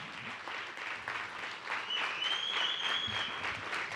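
A crowd at a youth summit on voting applauds steadily, moderately distant clapping that swells slightly toward the end.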